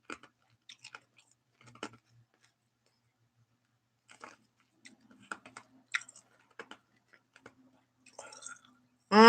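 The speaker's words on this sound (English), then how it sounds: "I'm crunching on ice." Ice cubes crunch between the teeth in scattered, sharp bites and chewing bursts, close to the microphone and quiet, separated by stretches of near silence, with a brief voice sound at the end.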